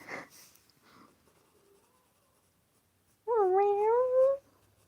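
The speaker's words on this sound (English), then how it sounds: "Did you guys hear my cat?" A house cat gives a single drawn-out meow with a rising and falling pitch, fairly close and clear, after a quiet stretch with faint scratching sounds.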